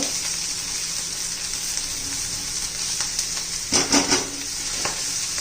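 Green chillies fry in hot oil with a constant close sizzle while a spoon stirs them, the stirring swelling into a few louder scraping bursts near the end.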